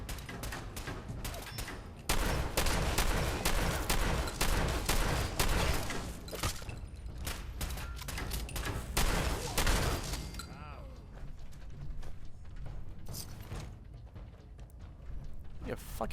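A minigun in the Fallout 4 video game fires in dense, rapid bursts, loud at first and then thinning into scattered shots, with faint game sounds between them.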